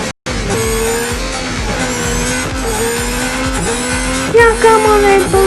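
Racing car engine in Real Racing 3, a Red Bull car, screaming at steady high revs with repeated tire squeals and skids, loud and close throughout.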